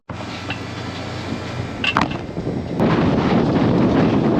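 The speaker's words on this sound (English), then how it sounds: "God, it's getting windy, man." Gusts of wind buffet the microphone with a rumbling roar that swells louder partway through and stays strong to the end.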